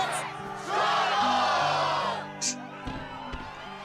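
Game crowd in Kingdom Hearts 2 roaring and whooping in an arena, a swelling cheer that peaks then fades, mixed with in-game voices and effects.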